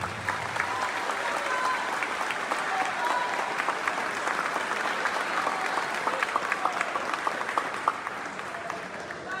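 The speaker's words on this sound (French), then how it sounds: "Applaudissez-vous encore une fois, s'il vous plaît." An audience bursts into sustained applause, a dense, continuous roar of clapping that stays strong throughout with a few sharper claps standing out near the end.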